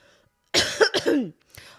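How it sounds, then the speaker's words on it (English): Two or three harsh coughs and a throat-clearing burst from a person with bad allergies, close and fairly loud, with a short fainter cough or sniff after a pause. "So you're going to be hearing some sniffles, some coughs, etc."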